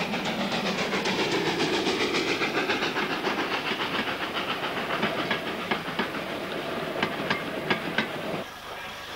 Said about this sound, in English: 45058, a 1934-built Stanier, gallops past on yet another southbound freight